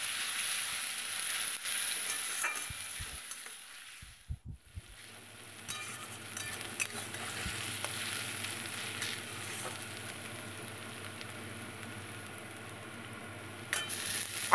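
Grated onion fries in a pan with a soft, continuous sizzle, interrupted by a few light clinks and scrapes as it is stirred.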